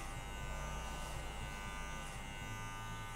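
Electric clippers with the guard set at 2.5 buzz steadily while trimming a beard, a close, continuous hum with no talking.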